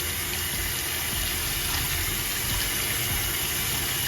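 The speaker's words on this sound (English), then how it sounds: "you are going to turn on some cold water, and you are going to stop the cooking process of your" Cold tap water runs steadily from a faucet over freshly cooked lasagna noodles in a kitchen sink, a constant close hiss and splash with no talking.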